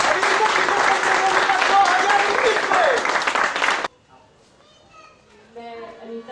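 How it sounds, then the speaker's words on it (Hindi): A hall audience, children's voices among them, applauds loudly to welcome a ceremonial lamp lighting at a Culture Valley franchise meet. The dense clapping and chatter carry on for about four seconds, then cut off abruptly to soft music. "उसके दीप प्रज्वलन के लिए जोरदार तालियों से स्वागत कीजिए।"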